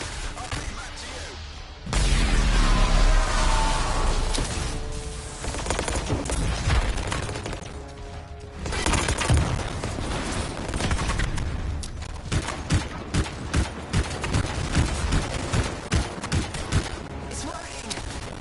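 Gunfire in the video game Anthem aimed at a Strider: heavy bursts of shots, then a long run of rapid, evenly spaced automatic fire, loud and dense over game noise, with voices talking throughout.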